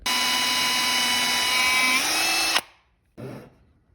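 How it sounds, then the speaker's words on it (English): A power drill bores a hole in a wooden jewelry box, its high whine running loud and steady for over two seconds, dropping in pitch slightly before stopping abruptly, followed by a short second burst. "So we'll drill the hole"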